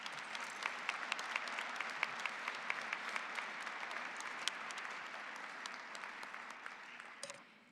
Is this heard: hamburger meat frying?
no